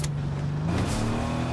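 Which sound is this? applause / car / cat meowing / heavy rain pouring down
car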